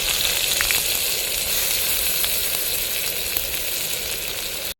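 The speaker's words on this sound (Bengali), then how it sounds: "এবার আমরা দিয়ে দিলাম পেঁয়াজ কুচি।" Chopped onion sizzling in hot oil already spiced with dried chillies, bay leaves, cinnamon, cloves and cardamom, a dense steady frying hiss close up with no voices, cutting off abruptly at the end.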